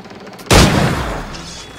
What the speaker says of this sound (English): Shooting him from from bushes.